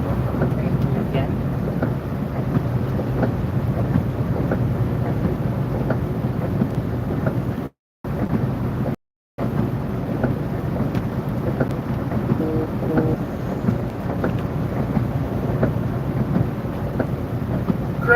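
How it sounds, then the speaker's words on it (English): Storm noise heard from inside a moving vehicle during a drive through Valdosta, Georgia: steady loud rain and wind rumble with low thunder-like roll, continuous for most of the stretch apart from two brief dropouts. "Got me going through the storm."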